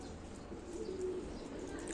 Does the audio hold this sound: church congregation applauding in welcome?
no